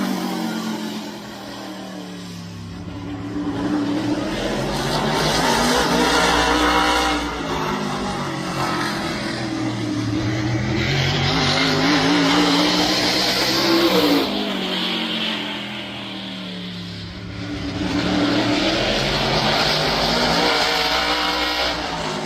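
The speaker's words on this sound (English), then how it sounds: "Joey Coulter was actually on track just about a week ago testing tires for this upcoming race." A race car running tire-test laps for a Southern All-Stars race, its engine revving and easing as it circles, loud and continuous with repeated rising and falling passes and no talking.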